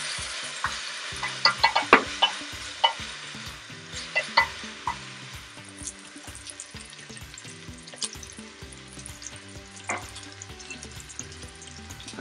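Ginger, garlic and chili fry in a pan for a Cameroonian shrimp rice, a steady sizzle broken by clattering stirs and utensil scrapes, busiest early on and then settling into a continuous hiss.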